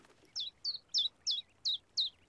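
Six evenly spaced high chirps from a small cartoon bird, crisp and clear against near-silence, repeating at a steady rhythm about every third of a second.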